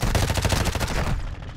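A rapid burst of automatic gunfire in Call of Duty DMZ, a fast loud string of shots lasting about a second before cutting off into a fading echo.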